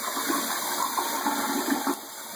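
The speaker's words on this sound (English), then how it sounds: "We got a nice powerful flush." An American Standard Cadet one-piece toilet with a 1.6 gpf flush, flushing with a loud, steady rush of water close by that cuts off abruptly near the end.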